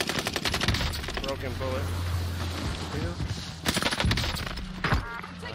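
A nail gun fires in Call of Duty Warzone on Rebirth Island, giving loud rapid bursts of shots amid other battle noise, with players talking over it.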